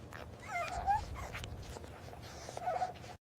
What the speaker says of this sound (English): you've got some whimpering and you've got some kind of like white noise sound